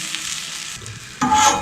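Ahi tuna sizzling on an Arteflame grill, a steady crackling fry that surges louder near the end as the fish is flipped onto the hot surface.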